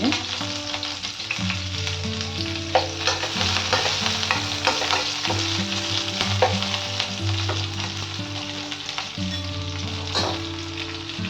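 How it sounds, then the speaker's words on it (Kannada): Green chili and curry leaves fry in hot oil with a steady sizzle while a spoon stirs and scrapes the pan in repeated strokes, close and clear with no talking. "ಒಂದು ಮೆಣಸಿನ್ಕಾಯಿ ಹಾಕೊಂಡಿದ್ದೀನಿ ಸ್ವಲ್ಪ ಕರ್ಬೇವನ್ನ ಹಾಕೊಂಡಿದ್ದೀನಿ"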